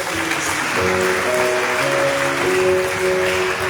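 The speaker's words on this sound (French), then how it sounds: "On applaudit docteur Samuel" A church congregation at a Sunday youth service and meditation at Église de Dieu Béthel in Haiti claps for a doctor, a steady wash of applause lasting throughout, with sustained musical tones ringing beneath it.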